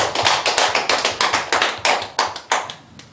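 A church congregation at a Korean Sunday service on Children's Sunday claps together in a steady, brisk rhythm, about a dozen crisp, close claps in a row with no talking.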